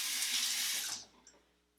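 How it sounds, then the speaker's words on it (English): A bathroom tap runs water briefly to wet an exfoliating face scrub, a close, bright hiss of flowing water for about a second before it shuts off, followed by small drips and quiet. "I'm just going to wet it with a little bit of water so it spreads easier."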